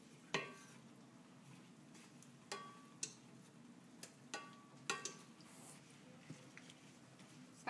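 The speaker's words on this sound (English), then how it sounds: "we're going to saute that now with the onions and the garlic" Mushrooms with onions and garlic tossed in a pan, a faint soft sizzle broken by sharp clinks and scrapes of a utensil against the pan at irregular intervals, close and quiet.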